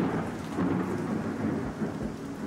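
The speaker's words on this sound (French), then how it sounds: "le reste de l'orage nous arrive dessus." A thunderstorm closes in on an airport zone, with steady heavy rain and deep rumbling thunder filling the whole stretch, loud and continuous with no voices.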